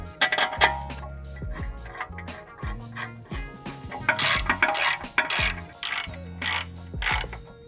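Ratchet clicking in quick bursts while tightening brake caliper bracket bolts on an MK7 GLI, close up, with light metallic clinks of tools between the runs.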